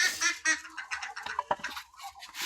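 Pankhiraj ducks quack in a busy, overlapping chorus of short nasal calls just after being let out of their pen, close and fairly loud.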